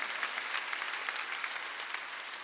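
Church congregation clapping together in steady, dense applause during a Sunday worship service, loud and continuous with no talk over it.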